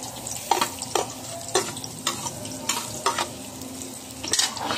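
Garlic, onion and chili sautéing in a pan sizzle steadily while a spatula scrapes and taps the pan in irregular close strokes.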